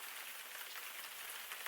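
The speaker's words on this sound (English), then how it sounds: "the storm grows louder, the rain tapping against the window in a steady rhythm" Rain from a storm taps against a window as a steady, dense hiss of drops, soft and even throughout with no voices.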